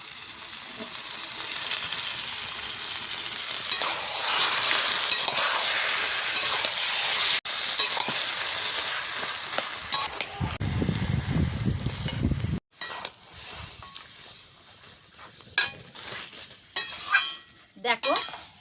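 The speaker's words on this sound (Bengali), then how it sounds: "এবার মাছের মাথাটাকে ভেঙে নেব এবার দিয়ে দিচ্ছি কচু শাকে" A rohu fish head is fried with taro greens in a pan: a steady loud sizzle with stirring and metal scraping, broken later by sharp utensil clinks and knocks against the pan.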